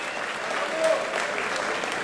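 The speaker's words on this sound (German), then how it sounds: "begrüßen Sie mit mir Aframidis Christos!" An audience applauds the ring introduction of a Greek boxing champion at a fight event. The clapping is steady and dense, with a soft crowd murmur beneath it.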